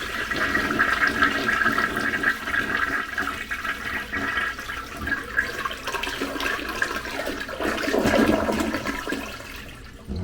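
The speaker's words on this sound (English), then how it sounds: "Next thing I'm going to do is flush the toilet" A household toilet flushes to drain its tank and bowl before the toilet is removed, a steady rushing and gurgling of water lasting several seconds, close and fairly quiet.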